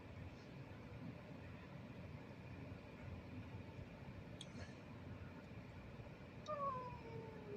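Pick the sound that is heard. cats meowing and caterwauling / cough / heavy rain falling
cats meowing and caterwauling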